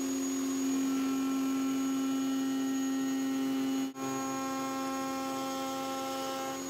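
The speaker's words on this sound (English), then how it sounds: "before my router bit comes in contact with the" A router with a bearing-guided bit cuts a workpiece along a template, giving a steady, loud motor whine with strong hum and a momentary dip in the drone near the middle.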